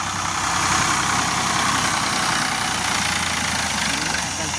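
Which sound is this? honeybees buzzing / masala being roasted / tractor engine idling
tractor engine idling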